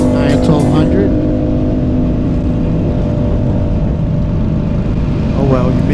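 Harley-Davidson Iron 1200 motorcycle ridden with no exhaust system fitted, a loud, raw engine drone holding steady throughout, close and constant, with a rider's voice faintly underneath near the start and end.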